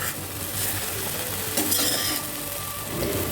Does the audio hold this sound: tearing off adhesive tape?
no